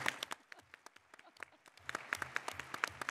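An audience at a medical talk applauds patients in the room, a dense patter of many hands clapping at moderate distance, thinning briefly in the middle before swelling again.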